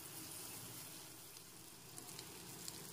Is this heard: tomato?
yes